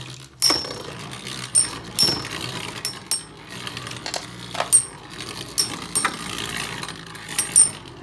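Beyblade spinning tops clash in an arena with sharp metallic clicks and clinks, irregular impacts scattered over a faint rattling spin.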